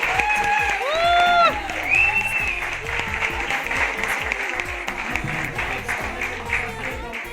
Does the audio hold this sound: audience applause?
yes